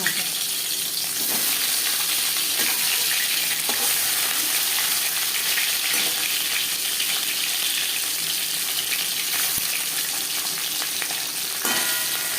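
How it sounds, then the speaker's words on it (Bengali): Fish sizzling in hot refined oil in a pan while cooking a fish curry with taro root. A steady, close, broadband crackle and hiss runs throughout, with occasional faint clinks and no talk. "মাছ ভাজবার জন্য পরিমাণ মতো রিফাইন্ড অয়েল গরম করে নিয়েছি দিয়ে দেবো মাছের"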